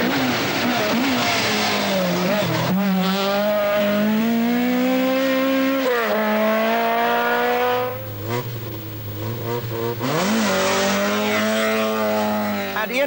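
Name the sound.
rally car engine racing, 1982 Ulster Rally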